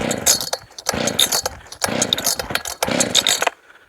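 A Redmax 621 chainsaw cutting wood, its engine revving in four loud bursts that rise and drop roughly every second, with short near-idle gaps between them and a fading tail at the end.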